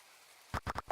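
Four quick, sharp pattering hits land in a rapid cluster after a quiet start, the game sound of rain in the farming-sim Portia, close and crisp.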